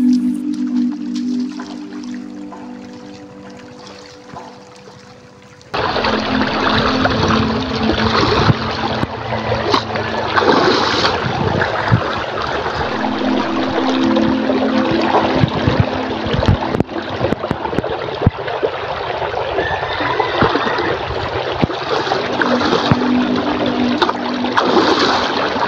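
River water flowing steadily with splashes and trickles, loud and close once it starts a few seconds in, after a quieter opening with a low hum, then a continuous rushing wash.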